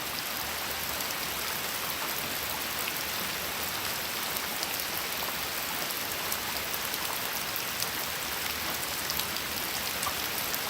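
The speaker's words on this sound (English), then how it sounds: "why in the fuck is it raining that hard here?" Heavy rain pouring down in a backyard, a steady, dense hiss of drops hitting surfaces that continues unbroken and fairly loud, with no voices.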